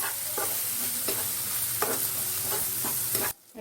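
Coriander and cumin powder being stirred into frying prawn biryani in a pan: a steady sizzle with repeated spoon scrapes at intervals, close and fairly loud, cutting off abruptly near the end.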